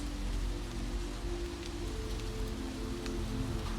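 Steady rain falls on New York City streets at night, a dense, even patter with a low rumble beneath, continuous and without voices.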